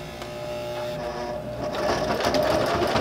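Close, steady whirring and clatter of a sewing machine stitching Velcro onto a fabric bag handle cover for luggage, growing slightly louder toward the end.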